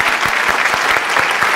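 Audience applause at a televised singing competition event, loud, dense clapping from a close crowd filling the whole stretch without letting up.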